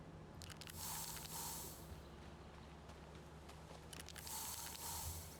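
Short hissing bursts of a spray paint can marking trees for felling in the Farming Simulator 25 game: two faint sprays a few seconds apart over a low steady background hum.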